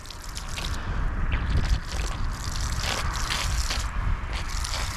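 Water from a garden hose running into bird water dishes outdoors, a steady close splashing and trickling stream that holds for several seconds with no talking.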